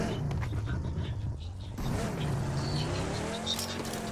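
Vehicle engine and tyres in a PUBG-style battle royale game, a steady motor drone with a brief skid-like squeal, heard continuously under players talking over voice chat.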